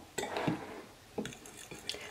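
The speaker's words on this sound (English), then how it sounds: "So what I'll do is I'll mix the baking powder in with the flour." A spoon or whisk stirring baking powder into flour in a bowl, a few quick scraping clinks against the dish spread across a couple of seconds, close and soft, with no talking.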